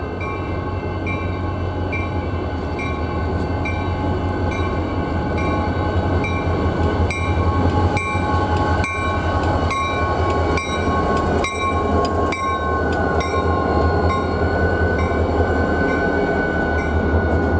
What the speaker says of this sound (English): CSX W003 was scanning the line between Brunswick and Portland for track defects.